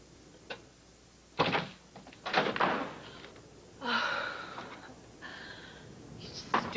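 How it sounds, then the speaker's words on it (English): A door bangs in a tense dramatic scene: two loud, sharp thuds close together, followed by breathy gasping vocal sounds in an otherwise quiet room. "You stupid door."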